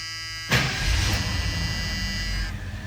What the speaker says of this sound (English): I'm going to start this truck up